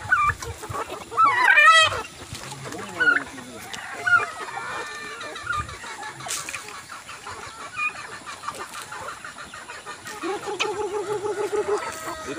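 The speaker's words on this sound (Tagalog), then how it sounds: "Ito po guys ang ating mga alagang manok." Farm chickens cluck and chatter in a pen while a rooster crows near the start, busy scattered bird sounds with rustling and faint background noise, no clear talk.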